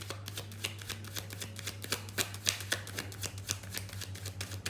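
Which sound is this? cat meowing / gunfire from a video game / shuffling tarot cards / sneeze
shuffling tarot cards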